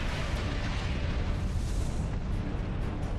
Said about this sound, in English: well, we got a random explosion